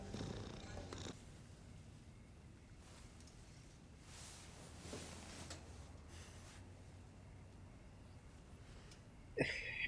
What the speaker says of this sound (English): Le chat, le cat.